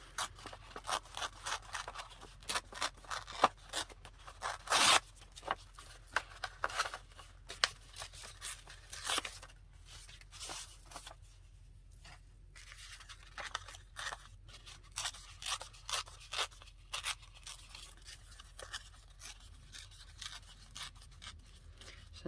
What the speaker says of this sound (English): And then I'm just going to tear around it.